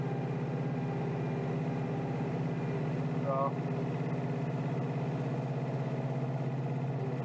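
A Kioti DK5320SE tractor engine idles steadily and close in sub-zero blizzard conditions, with a low, even drone throughout and a brief word spoken over it.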